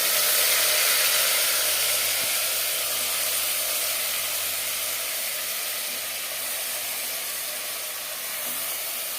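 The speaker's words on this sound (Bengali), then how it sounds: "সর্ষার তেল গরম করে নিয়েছি এবার দিয়ে দেবো ম্যারিনেট করে রাখা মাছের" Marinated fish going into hot mustard oil, a steady loud hiss of frying that fills the whole stretch and eases only slightly, with no talk over it.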